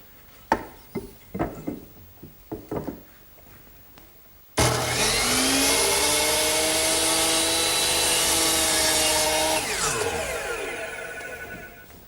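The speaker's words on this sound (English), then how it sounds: "So I'm going to use my power miter box to make that cut." A power miter saw cuts a miter in wood for an English garden bench armrest: a loud, steady whining cut of about seven seconds that slowly winds down, after a few light knocks and taps.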